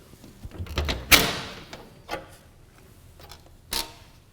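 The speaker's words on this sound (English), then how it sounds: "Let's remove the door first." The front door panel of a Honeywell electronic air cleaner is unlatched and pulled off, giving a few light clicks and rattles, one sharp close clunk and a later knock, with no talk.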